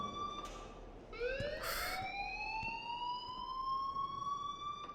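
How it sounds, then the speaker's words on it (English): A fire alarm sounds in the video game Life is Strange, a sustained wailing electronic tone that sweeps upward and then holds steady, over a low background hum, with no talking. "please turn off that alarm since that's your job"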